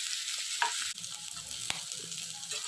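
Thinly sliced potatoes frying in a pan, with a steady hiss of sizzling oil close by and a few soft clicks and scrapes from stirring.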